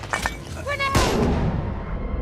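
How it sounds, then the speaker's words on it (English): A grenade explosion in The Order 1886, a sharp loud blast followed by a rumbling decay, preceded by scattered gunfire and a shouted voice. "Grenade!"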